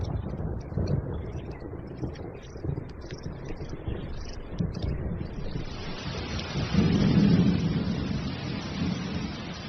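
Rumbling thunder rolls beneath steady falling rain, swelling louder partway through as the downpour and low rumble intensify.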